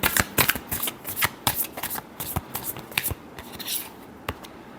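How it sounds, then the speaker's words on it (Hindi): Tarot cards being shuffled by hand in a close, rapid series of crisp riffles and flicks, with no talking over the papery snapping. "Last shuffle."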